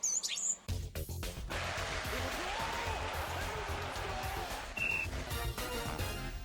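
Caged birds chirp and tweet in a steady, dense chorus that starts abruptly after a brief opening and runs continuously, fairly close and busy, with one sharper high call standing out near the end.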